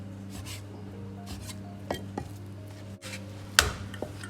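A knife slices pork tenderloin into even strips on a board, with a few sharp chopping knocks and soft scraping strokes spread unevenly over a low steady hum, no voices.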